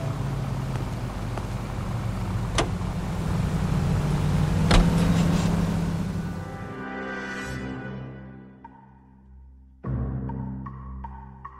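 A car engine hums and rises in pitch in the video game L.A. Noire, a steady motor drone that fades out and then returns with a brief engine note near the end.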